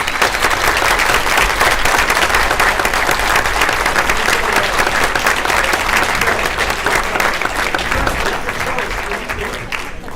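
A school board meeting audience breaks into loud, sustained applause to congratulate the wrestling team, with dense clapping continuing for about ten seconds and easing slightly toward the end.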